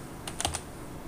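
A few quick, light keystrokes on a computer keyboard, a brief close cluster of clicks over a faint steady hiss.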